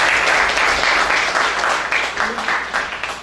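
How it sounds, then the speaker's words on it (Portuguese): Loud, steady audience applause for a speaker at a legal workshop, a close dense wash of many hands clapping throughout. "Uma salva de palmas aqui para o nosso palestrante"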